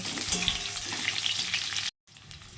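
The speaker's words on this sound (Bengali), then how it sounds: "সিদ্ধ আলু যেহেতু আলতো হাতে নাড়ব" Boiled potatoes being stirred gently in a hot pan for a vegetarian aloo dum, a steady close frying sizzle with soft scraping, cut off by a brief silence near the end before it resumes.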